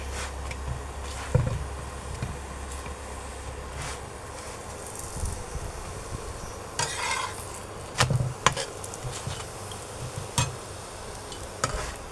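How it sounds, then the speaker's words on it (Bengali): Paratha fries in a pan with a low, steady sizzle, punctuated by occasional sharp clicks and scrapes as it is flipped and turned, close and fairly quiet. "উল্টে পাল্টে ভালো করে ভাজা হচ্ছে।"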